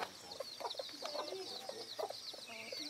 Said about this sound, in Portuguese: Olha lá que bonitinha a galinha.